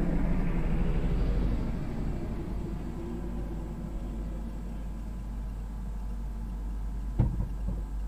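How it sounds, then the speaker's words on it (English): Low rumbling engine noise of a low-flying helicopter passing overhead, loudest at first and then fading steadily into the distance, with a brief knock near the end. "Seen that helicopter fly over. Man, was he ever flying low."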